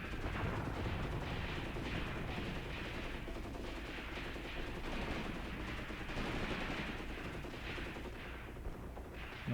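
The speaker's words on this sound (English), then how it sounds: "here go the tracers from Maxim guns" Sustained Maxim machine gun fire in the Graviteam Tactics war game, a continuous rattling barrage of overlapping bursts at steady loudness throughout, with no voices.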